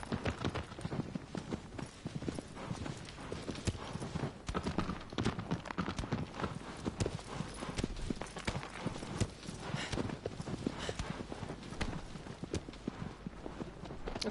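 The horse Agro gallops across a vast landscape in Shadow of the Colossus, a steady, rapid clip-clop of hooves running continuously and evenly throughout, moderately loud and close, with faint game ambience beneath.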